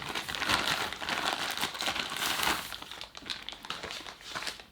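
Biodegradable plastic packaging from a microphone unboxing crinkles and rustles continuously up close, loud and scratchy with brief pauses, no talking.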